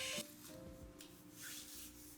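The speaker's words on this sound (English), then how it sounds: "I just rubbed like it into my hands and it feels all like nice, like silky" Soft, close rubbing of sea moss gel between the hands, a few faint swishing strokes that come and go against a quiet background.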